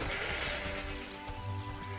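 Sheep bleating in the Overlord video game, a short bleat heard over continuous game music and ambient noise, fairly close and moderate in level.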